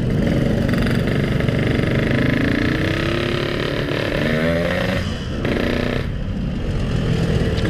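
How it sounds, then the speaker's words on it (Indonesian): Yamaha RX King two-stroke motorcycle engine revving up and easing off the throttle, a loud, close, buzzing drone that rises and dips over several seconds. "suara pas digas pas turun gasnya semua dirasakeun si Kumang Buge"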